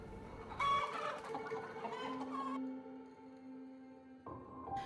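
Chickens cluck and a rooster crows on a Malaysian poultry farm, several birds calling over each other in busy, overlapping bursts at close range, with a sustained crowing note running through the middle.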